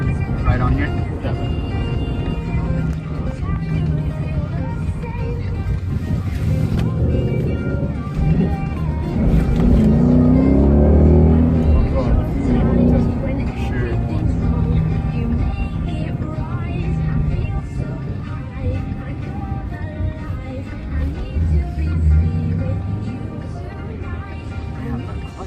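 A car engine hums and revs during a test drive, heard from inside the cabin as a steady low drone with rises and falls, while people talk over it throughout.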